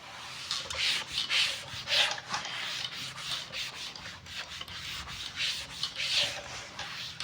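A written board being erased by rubbing, a series of close, rhythmic scratchy strokes of varying strength with no talk.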